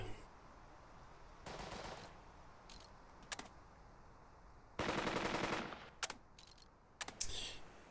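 Machine gun fire in the WW2 game Burden of Command: several short and longer rattling bursts at moderate distance, separated by quiet gaps, with a couple of isolated single shots.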